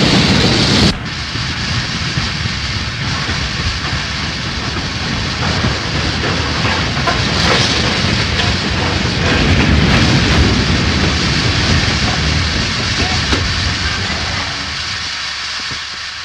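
Loud, steady hiss and rumble of a steam train stopping, with a sharp burst at the start and noisy mechanical clatter throughout.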